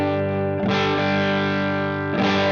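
An electric guitar sustains a held chord through the clean channel of a Joyo Jackman amp, ringing loud and steady, with a fresh strum near the start and another near the end.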